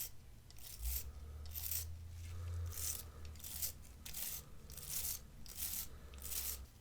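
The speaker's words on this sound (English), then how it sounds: "Now I'm going to use this brush." A stiff non-metal bristle brush scrubs a smoke-damaged Game Boy wet with isopropyl alcohol, giving repeated close raspy back-and-forth strokes in a steady rhythm over a low hum.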